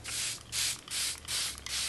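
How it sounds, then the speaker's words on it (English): Four quick hissing spritzes of a makeup setting spray bottle, evenly spaced and close up, with short pauses between each burst. "Setting spray."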